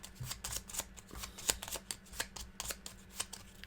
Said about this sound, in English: We need to shuffle this deck.